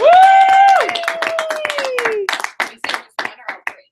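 People at a training meeting break into a round of applause, a cheering voice ringing out at the start over brisk clapping that grows into scattered individual claps.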